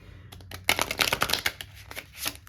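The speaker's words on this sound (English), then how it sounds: "Let me just shuffle these." Cards riffled and shuffled up close, a quick burst of crisp flapping clicks lasting a couple of seconds, with no talking.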